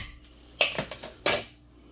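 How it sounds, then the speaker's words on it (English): A potato masher thumps and clinks down into a soup pot of sausage and potato pieces, giving two close, sharp strokes with a few lighter knocks in between. "So I'm just gonna mash a little bit."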